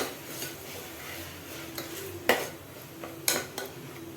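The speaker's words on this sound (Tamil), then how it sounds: "மசாலாவை நல்லா மிக்ஸ் பண்ணி விட்டுக்கலாம்." Metal utensils clink and scrape against a pan in a few sharp knocks, close and moderately loud, with light stirring in between, as masala is mixed for mushroom biryani.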